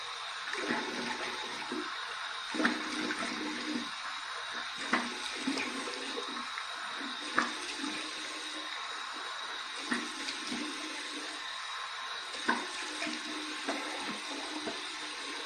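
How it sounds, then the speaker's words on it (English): Warm water runs steadily from a tap while someone rinses their face after shaving. The flow is continuous, with intermittent splashes and slight surges throughout, and no one speaks. "Here's my warm water rinse."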